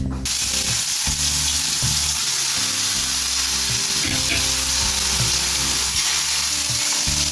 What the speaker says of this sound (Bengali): বেগুনটা হলুদ দিয়ে মাখিয়ে রেখেছি এবারে ভেজে নেবো লাল লাল করে